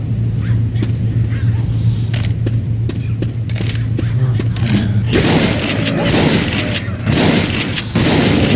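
Gunfire in the zombie shooter Left 4 Dead 2, rapid loud shots and bursts over a steady game background, growing denser toward the end, with a voice speaking over it.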